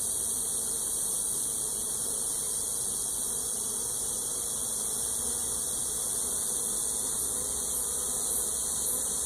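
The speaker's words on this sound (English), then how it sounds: "Males are drone bees." Honey bees swarm around a hive that holds drones, with a virgin queen out on her maiden flight. Their dense, steady buzzing is close and continuous, and no voices are heard.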